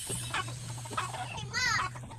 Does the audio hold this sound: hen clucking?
yes